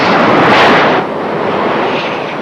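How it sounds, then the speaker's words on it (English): A military jet lands on a moving aircraft carrier deck with a loud roaring engine rush that peaks and then drops off into a lower sustained rumble. "Watching this, you get a real appreciation for the courage and discipline it takes to put an aircraft down on the deck of a moving ship."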